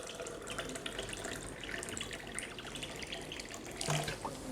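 Kangen water being poured, a continuous splashing trickle close by with a brief louder gush near the end, no voices over it.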